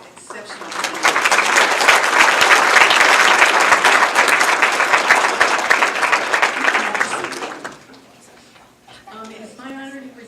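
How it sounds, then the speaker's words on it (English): A banquet audience at a football touchdown club hall of fame dinner breaks into loud, sustained applause for several seconds, then it fades as a voice begins speaking. "A round of applause for these exceptional candidates."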